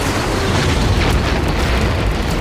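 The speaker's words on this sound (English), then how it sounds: "The rocket hit square beneath the left wing and tore the fighter to pieces." A rocket striking beneath a fighter aircraft's wing and tearing it apart, heard as a dense, sustained, loud roaring blast that fills the whole moment without letting up, with no voices.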